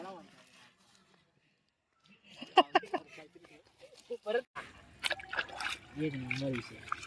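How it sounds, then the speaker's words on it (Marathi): River water trickles and splashes as two boys wash potatoes and banana leaves at the riverbank, light dribbling and sloshing sounds mixed with nearby voices talking over much of the clip. "नदीच्या पात्रामध्ये हे दोघं पोरं बटाटे, केळीची पानं धुत आहेत"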